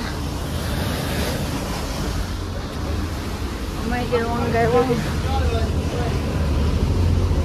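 A boat under sail on open sea, with steady wind and wave wash rumbling continuously as the hull rocks; a voice speaks briefly partway through.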